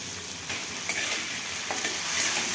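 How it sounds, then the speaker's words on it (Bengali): Potatoes frying lightly in a pan for a Bengali alu posto, a dense, bright sizzle with occasional stirring scrapes, close and steady throughout, with no voices. "তো এখন আমি আলুটাকে ভেজে নেব। আলুটাকে হালকা করে ভেজে নেব।"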